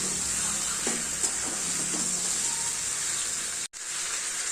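Fried katla fish heads and spices fry in a pan with a steady, even hiss of sizzling oil and faint stirring clinks, with a brief dropout near the end.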